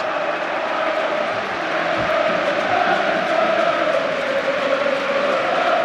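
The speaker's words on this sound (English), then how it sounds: "they are making it absolutely clear to him, the Liverpool travelling support, what Virgil van Dijk means to this club" Liverpool's travelling supporters roar and chant in a football stadium during a Premier League match against Leicester City, a dense, sustained crowd din with a sung tone running throughout, loud and unbroken.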